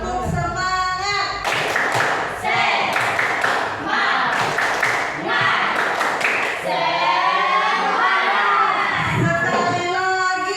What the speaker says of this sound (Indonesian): Kita akan lakukan tepuk semangat lagi, bisa?